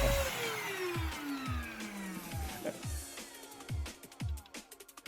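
A BlitzWolf BW AR182 cordless vacuum cleaner whirs with a falling motor whine as it winds down, then gives a run of repeated thumping pulses and clatter close by.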